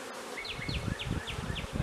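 Nurse bees packed densely inside a queen rearing cell starter box produce a dense, steady buzz, with a run of short repeated chirps riding above the droning hum.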